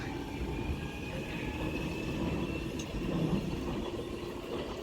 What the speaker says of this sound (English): now departing is going to be a London Underground 1996 stock, 96004, which is off to Stratford now.